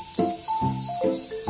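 A cricket chirps in a rapid repeating rhythm, several bright pulsed trills close by, while soft background tones play underneath.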